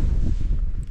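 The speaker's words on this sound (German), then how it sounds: "Es ist echt ganz schöner Sturm hier oder Windböen." Strong storm wind gusts buffet the microphone at a tent pitched in the Bartang Valley, a loud continuous low rumble that roars throughout with no voices.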